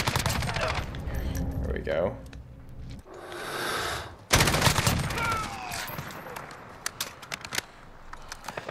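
Loud bursts of automatic fire from a CTAR-21 SBR rifle in Call of Duty Modern Warfare, with rapid shots, a short pause and more firing as someone talks briefly.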